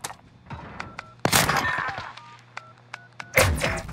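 Bomb being planted on site A in a first-person shooter match, a string of short beeping keypad tones with thuds and a burst of impacts, alone without talk.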